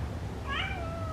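A cat gives one drawn-out meow with a rising, then gliding pitch, clear and fairly close over a low background hum.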